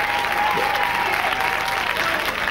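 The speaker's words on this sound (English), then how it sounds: "this crowd love it here" Steady, dense applause from a large crowd at a charity celebrity boxing match for Sport Relief, filling the hall without a break for a couple of seconds.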